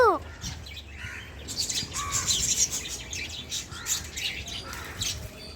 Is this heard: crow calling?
yes